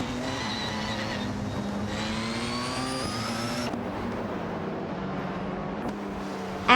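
Racing car engines from a video game, a Peugeot 207 GTI and an Infiniti Q50 dueling through Eau Rouge, whine and rev with shifting pitch, climbing then dropping after a gear change, with a brief tire squeal at the end.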